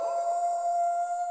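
A wolf howl used as a sting for a Mobile Legends esports broadcast segment, steady and tonal with a sustained high pitch, clear and alone for about a second and a half.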